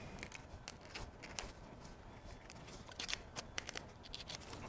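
Scissors snip during the build of a new Toyota engine, a series of faint, crisp cutting clicks scattered over a quiet background, close but soft, no talk.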